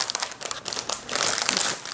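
Plastic lining crinkling and rustling up close as a block of floral foam is pressed into a rattan basket, soft irregular crackles that grow busier toward the end.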